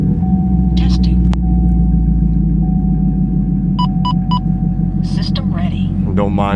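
A 2020 Chevrolet Camaro SS 1LE with its 6.2-liter V8 and MBRP exhaust idles steadily with a deep, loud burble, while a few short electronic beeps and brief talk rise over it.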